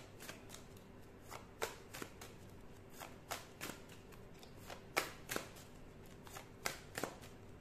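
Oracle cards being shuffled for a reading, giving a run of crisp riffling snaps and flutters at an uneven rhythm, close and fairly quiet, with no talking.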